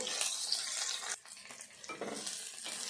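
Tamarind and chopped onion pieces are stirred and fried together in a pan for an old-style green chilli tamarind pickle, giving close, continuous sizzling broken by scraping stirs.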